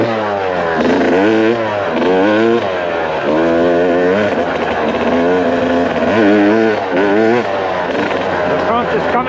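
A KTM XCF factory race dirt bike rides a trail, its engine loud and close, revving up and down in repeated surges with gear-change dips and a rough mechanical clatter throughout.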